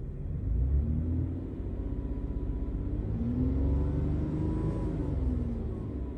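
A car engine idling with an OBD2 scanner plugged in, then given a light rev. The close, steady rumble rises and falls in pitch as the engine speeds up and settles back down.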